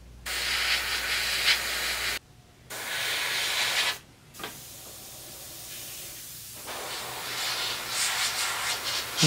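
An airbrush sprays paint onto a miniature model in short hissing bursts broken by brief pauses, fairly quiet and close, with no talking.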